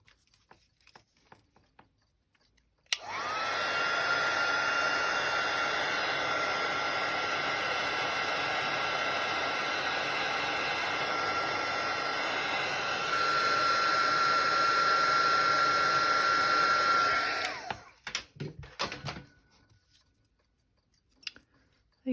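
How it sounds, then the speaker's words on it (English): A heat gun blows steadily to emboss a stamped paper craft piece, a loud continuous whooshing hiss running about fourteen seconds, switched on abruptly and off at the end, with a faint whine toward the finish. "Grab your heat gun."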